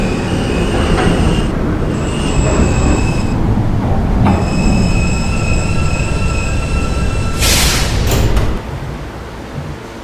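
An E subway train runs on the line, its wheels squealing in long, loud, sustained tones over a steady rumble of rolling cars, ending in a sharp high screech before the roar drops off.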